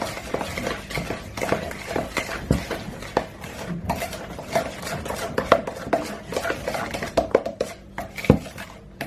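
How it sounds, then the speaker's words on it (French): Cake batter being mixed by hand in a bowl, with steady scraping and frequent clinks of the utensil against the bowl's sides throughout, fairly close and with no talking. "il suffit juste de mélanger et vous allez obtenir très rapidement une très jolie pâte"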